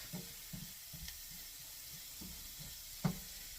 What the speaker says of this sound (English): Let me get these carrots stirred